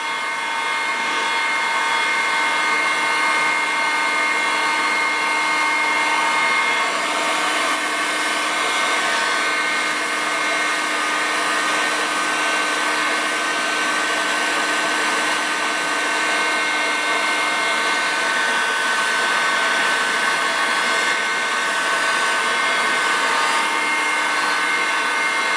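A heat gun blowing hot air onto a Kydex sheet to flatten it, a loud, steady whooshing drone with a constant motor whine, unbroken for the whole stretch.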